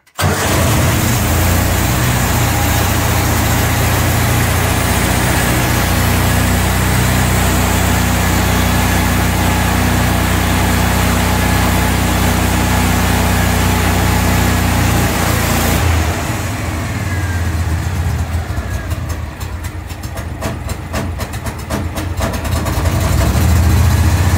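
Loud engine running steadily in cold weather without the choke, starting right at the opening and idling with a constant roar, then the tone shifts and roughens partway through before rising again.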